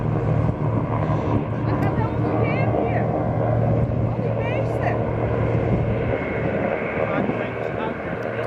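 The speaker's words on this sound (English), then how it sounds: "This plane taking off in the water came a bit too close to land." A seaplane taking off from water roars with a steady, loud engine drone and broadband rushing noise, holding a sustained tone throughout with faint higher whines drifting in and out.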